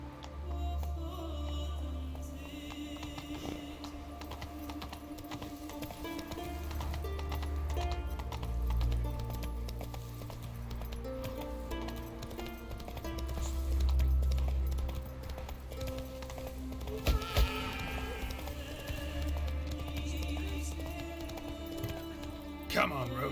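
Roach the horse gallops with steady clip-clopping hooves in The Witcher 3 video game, a continuous rhythmic beat running throughout under game music and occasional spoken voice.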